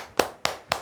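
Three sharp hand claps about a quarter second apart close out an online Greek grammar class, each crisp and close, with nothing between them.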